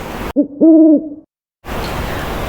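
An owl gives a short hoot followed by a longer, steady hoot, clear and close in a quiet setting, with a gap of silence after.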